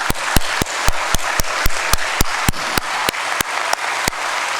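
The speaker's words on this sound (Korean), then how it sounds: "그래서 우리 큰 영광 박수로 하나님께 영광을 올려드리겠습니다." Church congregation at a Korean prayer meeting claps in unison, a loud, evenly spaced beat of sharp claps over a continuous bed of wider applause.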